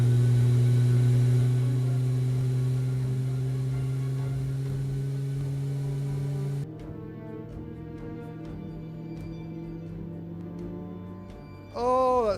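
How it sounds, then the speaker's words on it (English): Engine number two of an airliner in Microsoft Flight Simulator spools up with a steady droning whine and rising hum, loud at first, then dropping to a quieter sustained tone before a brief chime near the end. "And we'll start engine number 2."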